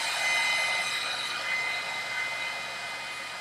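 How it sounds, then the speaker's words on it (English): A heat gun blows steadily on a Samsung phone screen to loosen the glass and touch digitizer for replacement, giving a continuous airy whine and hiss that stays level throughout without any voices. "So I'm going to put the heat gun back on it."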